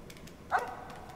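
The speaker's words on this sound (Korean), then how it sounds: "뽀꾸야, 아빠가 짖지 말랬지." A single short dog bark from a horror video game, mid-loud and alone over a quiet low background hum.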